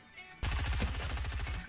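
A short, rapid burst of automatic gunfire in the video game Fortnite erupts after a brief quiet moment, loud and rhythmic.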